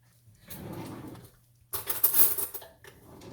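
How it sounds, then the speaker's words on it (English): Spoon and fork picked up with clinking, scraping cutlery clatter, a softer rattle first and then a louder burst of metallic jangling after a short pause, close by in a home kitchen while making stovetop mac and cheese. "Let me get me a spoon, a fork, and try to taste it."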